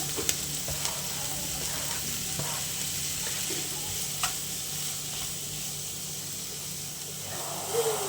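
Onion and tomato sauté in a pan with a soft, steady sizzle, punctuated by a few light clinks and stirring scrapes, fairly quiet and close.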